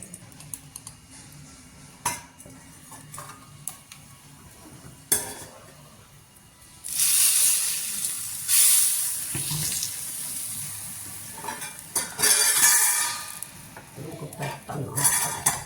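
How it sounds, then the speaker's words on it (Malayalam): Curry being stirred with fenugreek powder in a stone pot, with scattered scraping and clinking knocks and a bubbling, hissing wash in the middle; no voices are heard. "ഉലുവാപ്പൊടി ഇട്ടാൽ ഉടനെ അങ്ങ് ഇളക്കണം."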